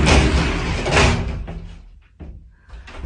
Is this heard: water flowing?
no